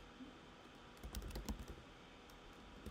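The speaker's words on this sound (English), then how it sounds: "now you're going to hear when I type, though, because I'm typing right" Typing on a computer keyboard right beside the microphone, a short burst of quiet, close key clicks clustered in the middle of the moment, with faint room noise around it and no talk.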